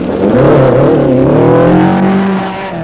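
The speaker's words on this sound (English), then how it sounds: "the sound from the Cosworth BDA engine was something really special." A Mark II Ford Escort rally car's Cosworth BDA engine revs hard and loud, its raw, rasping note rising and falling continuously with no talk over it.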